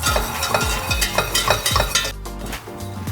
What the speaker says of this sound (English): When you add the milk, you got to keep whisking.